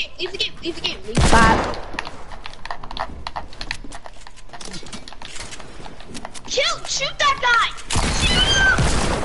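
Video game gunfire in bursts, with two loud blasts and scattered shots, mixed with keyboard and controller clatter while a player talks excitedly over it.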